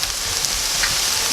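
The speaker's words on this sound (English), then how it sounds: "I'm going to leave this sizzling here for a little bit" Mushrooms sizzling in a frying pan while tofu scramble cooks, a steady close hiss and crackle of frying with no talk.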